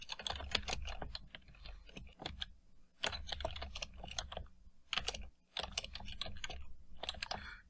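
Code is being typed on a computer keyboard in several bursts of rapid, close key clicks, split by short pauses, with no speech.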